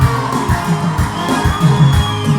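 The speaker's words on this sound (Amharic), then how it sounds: "ለኢየሱስ ጩኸታችሁ እልልታችሁ ይገባል ሃሌሉያ" A church congregation at a Hosanna gathering shouts and ululates in praise, loud overlapping cheers and trilling whoops rising in repeated bursts close by.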